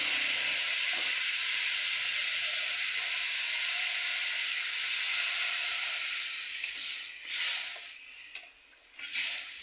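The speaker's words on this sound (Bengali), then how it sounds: "এবার আমি জল দিয়ে দিচ্ছি" Water hits a hot pan of sautéed spices for a rohu fish curry with ridge gourd, raising a loud, bright sizzle that holds steady, then sputters and fades in uneven bursts near the end; no one speaks.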